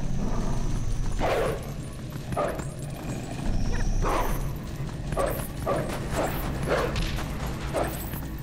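Wolf Link barks and yips repeatedly in Zelda: Twilight Princess HD. The sharp, loud game barks come in irregular bursts over steady background game audio.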